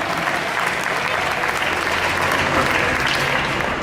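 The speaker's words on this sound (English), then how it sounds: "Give a round of applause, guys." A live stage show audience gives a round of applause, a dense, loud wash of many hands clapping at once, sustained and even throughout.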